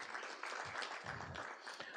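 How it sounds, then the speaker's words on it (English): Audience applause at a business summit on the future of work, a steady wash of many hands clapping for about two seconds with no voices over it. "Another round of applause for Harrison, please."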